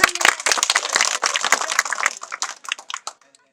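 Dense clapping from a crowd at a political rally, a steady burst of many hands that thins out and trails off toward the end.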